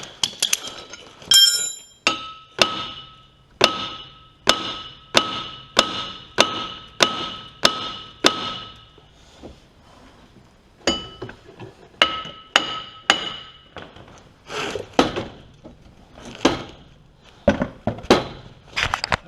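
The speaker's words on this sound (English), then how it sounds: "a lot of hammering with the hammer and a little bit of work with the welder" A steel hammer repeatedly strikes a brake rotor stuck on a vehicle hub, a Can-Am Maverick-type Talon TSI side-by-side, giving loud ringing metallic clanks in a steady rhythm, then a more irregular burst of blows after a short pause.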